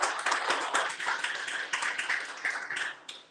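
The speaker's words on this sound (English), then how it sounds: "Let's give him a round of applause." A small audience applauds a guest, a close burst of uneven hand claps that tails off after about three seconds, with faint voices underneath.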